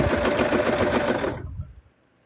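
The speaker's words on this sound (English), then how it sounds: "The sounds that it's making seems like it may be having an issue" A sewing machine stitches plush fabric in a fast, even, close-up whir for about a second and a half before it stops, leaving near silence.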